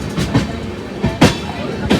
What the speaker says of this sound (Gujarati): કેવા જાડા જમ્પ આવે જોયું